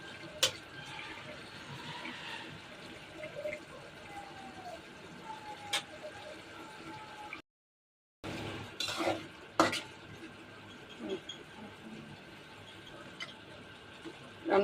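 Minced meat stirred and fried in a pan, with steady utensil scraping and clinking against the pan over a soft frying sizzle, interrupted by a brief gap.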